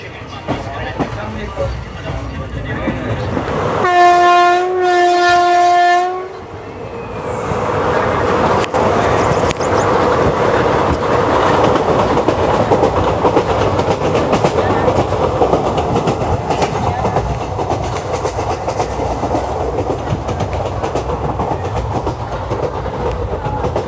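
The Marathwada Express rolls along the rails after leaving Ranjani station, a loud steady rumble and clatter of wheels, broken early on by a brief sustained horn-like tone.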